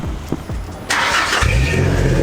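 A van engine cranks briefly and then catches, settling into a steady, loud rumble close by.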